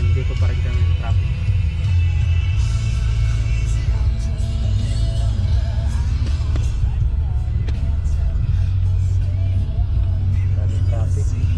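Heavy road traffic in a jam after an accident, with a continuous low engine rumble and occasional passing vehicles close by, while people talk over it throughout.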